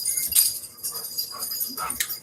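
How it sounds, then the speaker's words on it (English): A pet dog indoors at night whimpers in soft, thin whines that come in short bursts over a low, murky household background. "Yeah, it's a dog."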